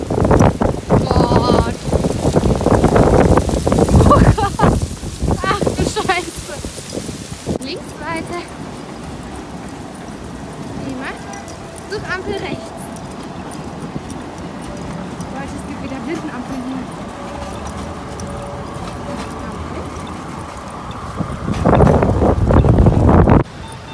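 Wind gusts sweep from the right along an empty street, buffeting the microphone with steady rushing noise that swells loudest at the start and end, while someone talks now and then.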